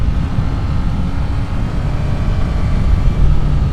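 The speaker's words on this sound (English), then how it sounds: "Oh, it's got a raucous note from the exhaust." A 2024 Yamaha XSR900 GP triple-cylinder sports bike under way, its raucous exhaust a dense low rumble mixed with heavy wind roar, continuous and loud.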